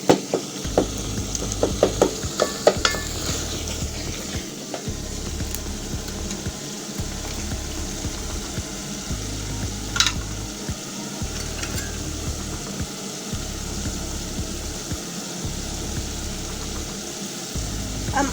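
Tomatoes cooking down into a thick paste in a pan for a spaghetti sauce, with a soft sizzle under repeated rhythmic scraping and stirring strokes, close and moderately quiet.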